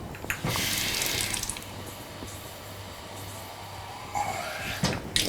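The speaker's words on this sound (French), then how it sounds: "Et ce que je fais, je les rince." Sprouted seeds are rinsed in a fine cloth strainer under running tap water, a steady close rushing stream that briefly grows louder near the end, with no voice.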